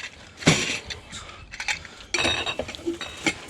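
Glass jars and lids handled and knocked together, a series of sharp clinks and rattles in irregular clusters, close by, with no talking.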